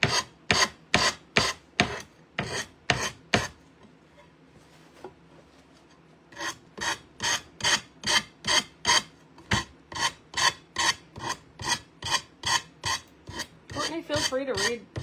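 Hand sanding on a decoupage piece: brisk rasping strokes repeat close up in a steady rhythm, stopping briefly for a quiet gap before resuming.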